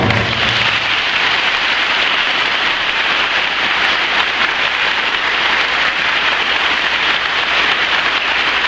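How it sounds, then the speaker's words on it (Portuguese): Guests at a parish community gathering in a church give a dense, sustained round of applause that holds steady from start to finish, loud and close. "Aí a nossa salva de palmas."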